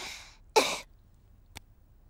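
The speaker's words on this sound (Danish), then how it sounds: "Træk sig vejret dybt ind og host." A cartoon character coughs during a pretend doctor's checkup, with a breathy exhale followed by one strong, close cough and a short faint click afterward.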